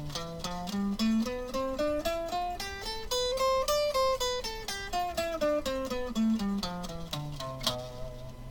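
Single guitar notes climb step by step up a B Locrian scale and come back down, each note plucked cleanly at an even, moderate pace.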